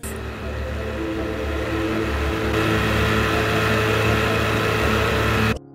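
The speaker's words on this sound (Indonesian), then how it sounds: "mereka mendengar suara kapal yang mengangkut beberapa tentara perang" Steady, droning engine of a boat carrying soldiers, a continuous loud hum and rumble held for several seconds before cutting off abruptly.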